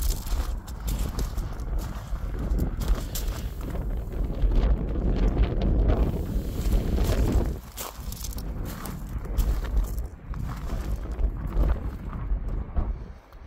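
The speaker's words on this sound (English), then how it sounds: "Even though it's a windy day, still absolutely beautiful." Wind blows hard on a gusty day in the South Somerset countryside, buffeting the microphone with a deep, uneven rumble that surges and eases.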